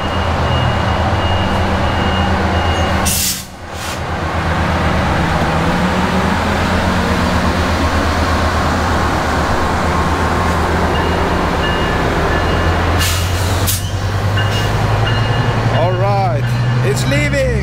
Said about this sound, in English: It's leaving. Goodbye. Goodbye, train.